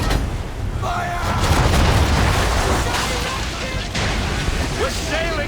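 Ship cannons fire in a naval battle in the Assassin's Creed 3 video game, a dense loud stretch of booming blasts mixed with shouting crew voices and game noise.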